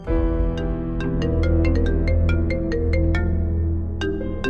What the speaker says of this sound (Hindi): फोन आ रहा है, उठाओ।